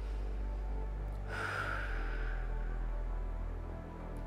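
A single deep breath taken while holding a full-body stretch, a soft, close, airy inhale-exhale rising once then fading over steady low background hum, with no talking.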